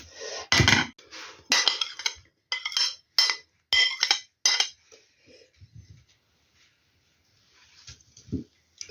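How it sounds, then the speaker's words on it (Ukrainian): Cooked pasta and egg for a pizza-style dish are stirred in a frying pan with a utensil, giving a series of sharp clinks and scrapes in bursts, then quieter soft shuffling and faint taps. "Тепер буду це змішувати все і буду показувати."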